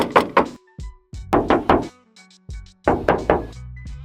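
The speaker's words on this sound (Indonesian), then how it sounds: "Kita coba tes ketok ya" Knuckles rap on the original side body panel of a family car in a series of quick, close, tinny knocks, roughly three groups of two or three taps spread across a few seconds with no talking.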